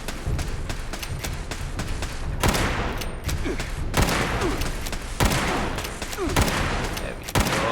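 Automatic turrets in Fallout 76 fire rapid, loud bursts of gunfire close by, with heavy booming shots punctuating the rattling volleys throughout.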